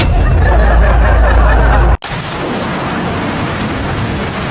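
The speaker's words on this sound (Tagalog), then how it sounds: "Hala, ang lakas ng ulan." Heavy rain pours loudly and steadily, with a deep rumbling roar; partway through there is an abrupt cut and the downpour continues as a hissing wash.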